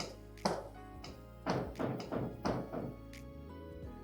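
Knocking on a house door in a Nigerian film scene, a handful of clear thuds and taps in uneven bursts at close range, with no talk.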